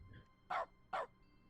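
Dog in a video game barking twice in quick succession, short sharp yaps fairly close and alone over a quiet background.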